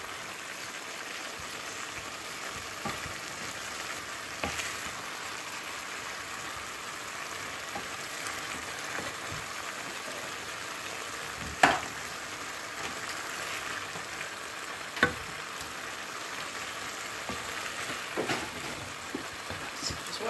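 Minced meat for a samosa filling fries dry in a pan and is stirred throughout, producing a soft, even, rain-like hiss with occasional sharper scrapes and taps over about twenty seconds.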